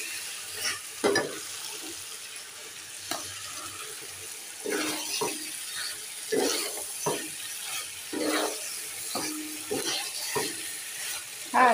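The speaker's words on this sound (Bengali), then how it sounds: "তো এই দেখো লাউ দিয়ে আলু দিয়ে এখানে কষিয়ে নিচ্ছি।" Bottle gourd and potato sautéing in a pan, with soft background frying and a series of irregular scraping stirs that come in clusters, fairly faint and close, with no talking.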